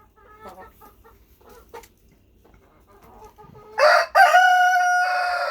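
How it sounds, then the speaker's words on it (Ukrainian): A rooster crows loudly and close by after a stretch of softer hen clucking, its long harmonic call cutting in abruptly and sustaining to the end. "Півень співає"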